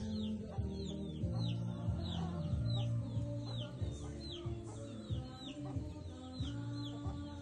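Chickens cluck steadily throughout, with a rooster-like call and bright chirping birds layered on top, busy farmyard noise with no talking.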